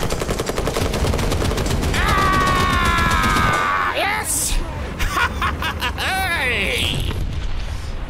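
Tank gunfire in a video game, a fast rattling stream of shots with heavy booms over battlefield noise, while a voice talks over it.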